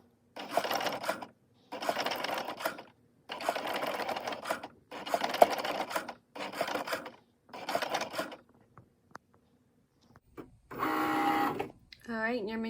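A Cricut machine engraves a metal bracelet in repeated bursts of buzzing, grinding whir, each lasting about a second with short pauses between, followed by a brief different mechanical run near the end.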